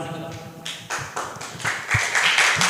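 Audience applause at a student presidential and vice-presidential candidate debate, a loose patter of claps building in bursts over a murmuring room, moderately close and growing denser toward the end.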